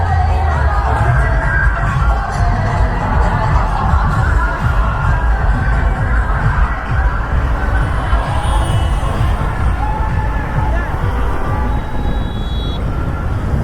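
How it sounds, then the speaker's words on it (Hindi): A large crowd of people waiting in a long queue, heard as a dense, steady hubbub of many voices with distant shouts and some traffic noise, continuous and loud throughout. "जो भी हो भीड़ बहुत है"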